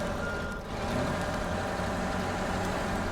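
A truck engine runs in the video game Snowrunner, a loud continuous mid-range drone with a steady tonal whine and no talk over it.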